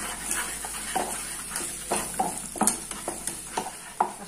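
Lardons fry in a pan for a Ramadan quiche while a utensil stirs them: a steady close sizzle broken by repeated scraping strokes, with no voices.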